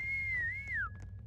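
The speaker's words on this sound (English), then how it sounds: "The monster listens to the whistles, Reed" Whistling in the horror video game ROOMS, one clear sustained tone that wavers, rises again and then slides downward before fading, with a faint low hum underneath.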